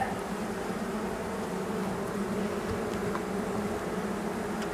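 Honeybees hum inside a hive over fresh new comb, a dense, steady, even drone of many insects close by, continuous and without talk.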